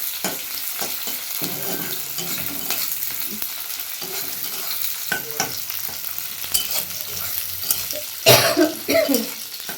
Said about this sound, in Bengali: একটু ভাজা ভাজা হবে, তারপরে ওই সবজিগুলো এতে দিয়ে দেবো